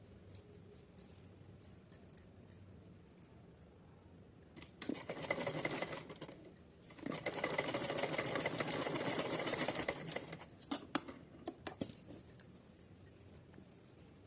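A sewing machine stitches the side seam of a small dress for a Kanha ji doll, starting with short bursts, then running in two long steady stretches with a brief pause between, close and alone.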